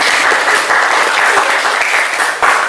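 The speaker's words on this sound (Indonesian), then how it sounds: "berikan aplaus kepada" A classroom applauds a student, with dense, steady clapping from many hands that is close and loud throughout.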